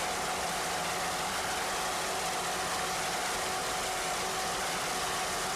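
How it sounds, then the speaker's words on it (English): Twin turbo offshore powerboat engines with Mercury outdrives roar continuously during a 1993 C-Class offshore race, a steady dense broadband rumble with wind and water noise and no talking. "Engines sound excellent."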